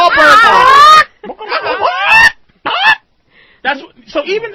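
Geese honking loudly and close, a burst of harsh, wavering cackles followed by several shorter squawking honks with brief gaps, played on a radio show.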